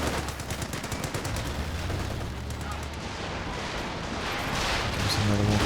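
A walking Stuka rocket barrage in the World War II strategy game Company of Heroes 2: a rattling stream of rapid blasts and thuds rolling on without a break, under a voice talking.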